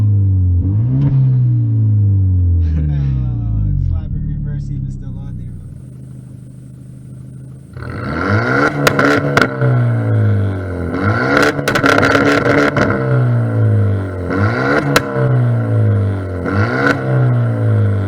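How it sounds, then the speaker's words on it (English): Engine of a 300whp Hyundai Genesis Coupe revving loudly and close, climbing and falling through repeated rev cycles with exhaust rasp, while people talk over it. "Give a little rev. Real quick for a little camera in the back."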